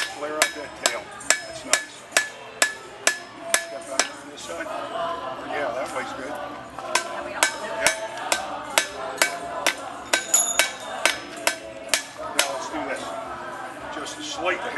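Repeated sharp metallic strikes of a flat hammer on metal in an irregular rhythm, ringing close by, with a voice speaking intermittently underneath.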